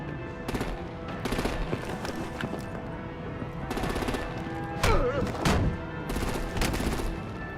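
Gunfire in the Batman: The Enemy Within video game, with repeated bursts of rapid shots and heavy blasts from close by, mixed with voices speaking.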